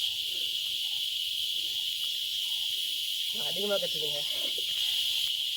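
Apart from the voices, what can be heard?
insects droning loudly in forest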